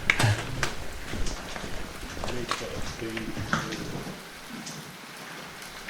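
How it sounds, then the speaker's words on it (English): Heavy rain patters densely around hikers in Scotland, with wind gusts and footsteps mixed in, and people talk over the wet, close-miked downpour. "there's like rain, and this is the approaching rain."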